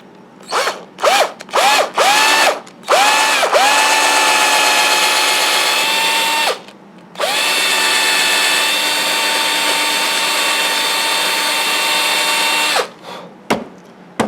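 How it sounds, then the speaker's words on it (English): A power drill whirs in several short bursts, then runs steadily for a long stretch before stopping, loud and close, as it drills a hole in a wood carving. "It's going to show me where to drill my hole."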